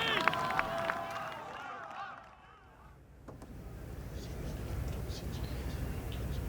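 Home crowd at the 2018 Ryder Cup golf gives a loud, sustained cheer that dips briefly, then swells again into a broad roar of applause and shouting around the course.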